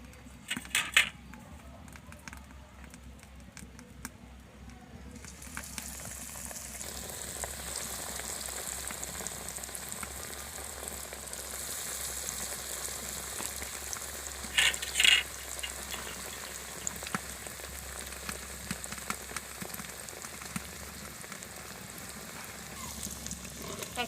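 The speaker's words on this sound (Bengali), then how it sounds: "এবার আমি ফিশ ফ্রাইগুলো ভেজে নেব।" Breaded fish fry made from river pangas fish frying in hot oil in a wok, a steady crackling sizzle that swells as the pieces go in and continues close and even.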